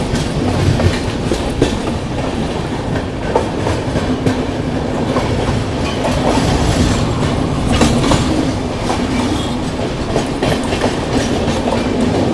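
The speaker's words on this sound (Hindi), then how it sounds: "नई दिल्ली त्रिवेंद्रम केरला एक्सप्रेस।" The New Delhi–Trivandrum Kerala Express passes at a crossing on a curve, a loud continuous rumble of railway carriages with rhythmic clickety-clack of wheels over rail joints and occasional faint squeal, close by throughout.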